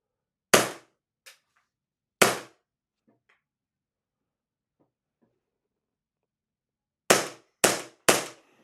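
Airsoft gun firing tracer BBs through a Smokey Wolf mini suppressor: sharp close snapping shots, a single one, another after a pause, then three in quick succession near the end, with quiet gaps between.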